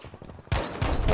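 Gunfire in the video game Battlefield V, a burst of loud close shots that erupts suddenly after a quieter moment and continues briefly.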